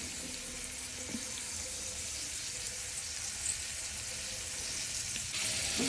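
Chopped onions fry in a pan for tomato rice bath, giving a soft, steady sizzle throughout, with faint stirring clinks and no talking.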